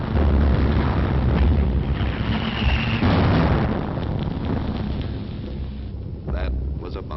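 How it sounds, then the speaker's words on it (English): A bomb blast during a 1940 London air raid, a heavy low rumbling roar that swells and slowly fades over several seconds, loud and close, with a smaller thud near the end. "That was a bomb."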